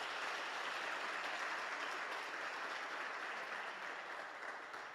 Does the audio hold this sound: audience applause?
yes